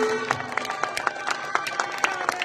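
An outdoor concert crowd in a city park claps in a steady, rhythmic beat of about four claps a second over a humming background, with the crowd sound close and fairly lively.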